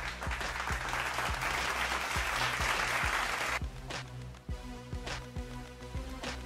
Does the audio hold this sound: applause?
yes